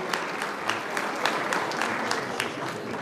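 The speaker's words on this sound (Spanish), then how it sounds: "Fuerte el aplauso" Audience applauding students receiving awards at a Bolivian high school graduate recognition ceremony, steady dense clapping from a crowd with sharper individual claps standing out, with some voices under it.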